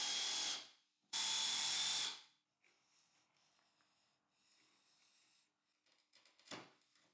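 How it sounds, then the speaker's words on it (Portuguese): Two loud bursts of a power drill boring into wood with a 22 mm spade bit for a handmade crib that converts to a child's bed, each about a second long, followed by quieter handling noises and a short final burst. "Posso usar a mesma broca para remover o excesso central e ajustar para criar o encaixe"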